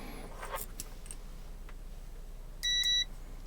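A multimeter beeps on a continuity test while a digital calliper left out in the rain is being fixed. Two short, clear electronic tones sound close together near the end, with faint handling noises before them.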